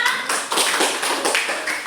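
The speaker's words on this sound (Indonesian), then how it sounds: "tepuk tangan untuk teman kita." A classroom of students clapping for a classmate, brisk close-up hand claps in short uneven bursts with brief dips between them.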